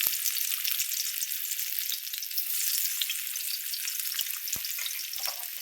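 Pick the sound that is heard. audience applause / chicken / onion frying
onion frying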